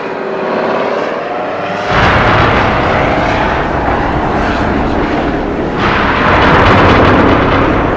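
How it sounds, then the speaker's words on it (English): An Osprey hybrid tiltrotor military aircraft roars overhead, a loud, dense, continuous engine and rotor rumble that swells in two surges as it passes close by. "The latest threat is this hybrid plane, the Osprey, notorious for its safety issues."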